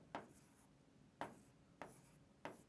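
Pen writing on paper during a Class 10 coordinate geometry lesson, four short faint scratchy strokes spaced unevenly, close up in a quiet room.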